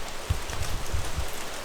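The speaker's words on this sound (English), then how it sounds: "It is pouring down rain." Heavy rain pours down steadily on a sunny day, a dense, even hiss close by with a few low thumps, no voices.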